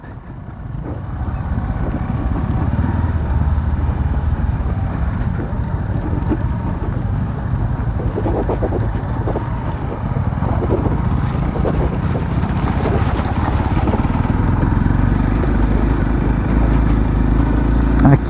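A Honda XR 300 Tornado motorcycle rides off-road with a steady engine drone close to the microphone, running continuously under wind buffeting with only slight shifts in load throughout.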